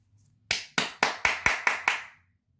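Seven slow, evenly spaced hand claps from a single person, sharp and close with a short reverberant tail, heard alone with no talking.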